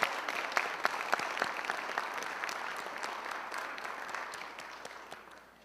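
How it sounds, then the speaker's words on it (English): Audience applause at a university fine arts student success celebration, a steady spread of many hands clapping with a few sharper claps standing out, gradually fading toward the end. "We would like, yes, applause."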